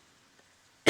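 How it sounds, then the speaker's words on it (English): After near silence, a person gives one short, sharp cough close by, right at the end. "It was more of a cough and not a clearing of the throat"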